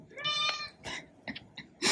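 A cat gives a series of short meows and chirps, close and fairly clear, with brief pauses between them.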